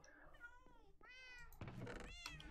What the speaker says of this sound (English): Look at all these cats!